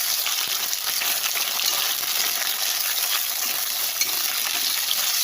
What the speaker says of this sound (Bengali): আলু আর মূলাটা আমি আগে দেবো আর চিনগুলো সব গলে যাবে তারপরে আমি একটু নাড়াচাড়া করে নিই